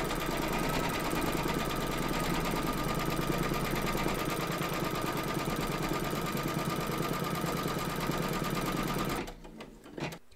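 An embroidery machine stitching appliqué fabric pieces in a hoop for a bee hive design, whirring loudly and evenly in a continuous buzzing rhythm that stops abruptly near the end, leaving a few soft clicks.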